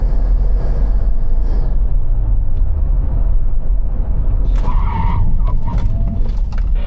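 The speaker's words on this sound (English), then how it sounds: "the last part was a full-on braking in the dry" A rare 90s JDM car brakes hard on a dry track during a track day, a loud continuous engine and road roar with tire squeal and skidding rising near the end.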